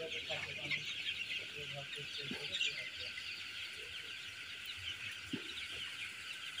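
Coloured (sonali-type) chickens huddled together in a winter poultry shed cluck softly and intermittently over a steady, fairly loud background hiss, with a few brief louder calls near the start and end.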